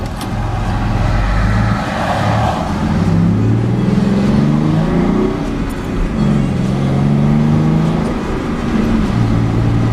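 A six-cylinder car with a modified exhaust drones and revs steadily up close, its low exhaust note rising and falling through several gear changes with road noise throughout.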